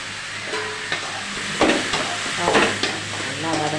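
Turmeric, curry powder, chili and coriander powders sautéing in oil for a fish curry, a continuous sizzle with several stirring scrapes, close, with faint background tones.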